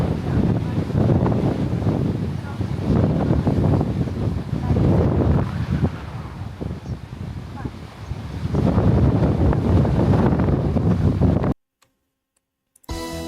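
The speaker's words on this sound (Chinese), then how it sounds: "超级大的风，呼呼吹" Strong wind roars and buffets a microphone in long, loud gusts near the sea, then cuts to brief silence before resuming.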